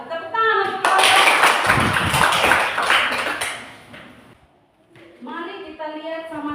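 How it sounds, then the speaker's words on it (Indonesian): A classroom of students claps for a student group, a burst of dense applause lasting a couple of seconds before fading, with a teacher speaking before and after. "Tepuk tangan untuk kelompok."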